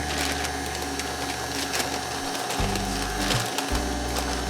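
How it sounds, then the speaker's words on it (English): An electric mixer runs at low speed while beating Swiss meringue buttercream, making a steady, loud, close motor drone whose low tone shifts and stutters partway through. "I want my mixer at a low speed."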